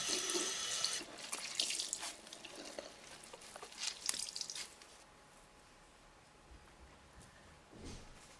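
Tap water runs into a sink to wet a cloth for cooling a hot rabbit, a steady splashing stream that changes as the cloth is moved under it, then fades to a faint trickle, with no voices.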